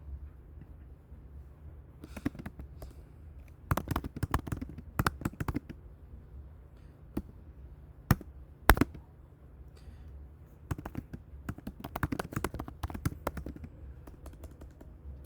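Typing on a computer keyboard comes in irregular bursts of quick clattering keystrokes separated by brief pauses, close and fairly quiet against a low background hum.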